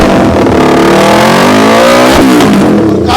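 A Yamaha R3 motorcycle with a full-system double-barrel exhaust revving hard, a loud rising engine roar that climbs in pitch, dips briefly and climbs again.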